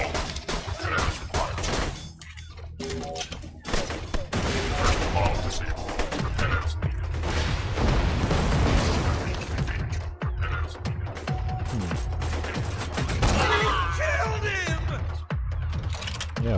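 Dense video game gunfire from Borderlands 2, rapid bursts of shots and crashes running almost nonstop, loud and cluttered, with a voice talking over it at times.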